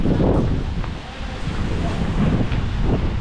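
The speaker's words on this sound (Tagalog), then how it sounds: "lakas ng hangin" Strong typhoon wind buffeting a farm, a loud continuous roar with gusty surges and heavy rumble against the microphone, steady for the whole stretch.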